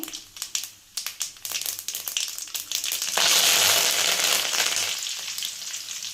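Curry leaves and mustard seeds spluttering in hot oil, starting with sharp popping crackles that build into a loud, steady sizzle, close up with no talking.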